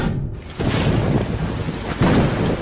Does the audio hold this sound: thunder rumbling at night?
yes